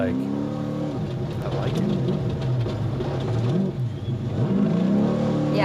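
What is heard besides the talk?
1,100-horsepower Baja off-road race vehicle accelerating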